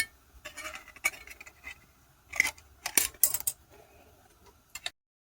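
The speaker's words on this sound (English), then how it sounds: "I'm going to use some scissors for this, just sort of cut round until I get up to there" Scissors cut around the edge of a piece of material in a quiet room, with sparse, irregular close snips and clicks, each one short and separate.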